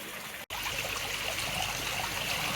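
Aquarium return water flows gently at the surface without splashing, making a soft continuous trickle after a brief cut of silence at the start.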